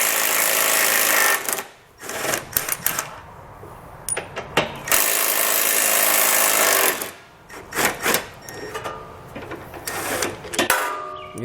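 A power tool with a 15mm socket zips bolts out from under a 2019 Buick Enclave during a trailer hitch install, repeated whirring bursts with short breaks between them, loud and close.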